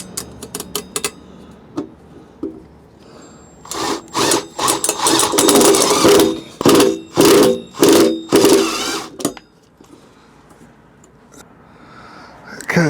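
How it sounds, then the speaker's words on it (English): A power drill whirs in short, repeated bursts as a self-drilling screw bites into stainless steel, preceded by a few sharp clicks and taps, fairly close. "I'm just going to put one in there"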